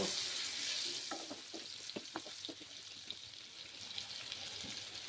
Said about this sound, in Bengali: আলুগুলোকে লাল লাল করে আমি ভেজে নেব।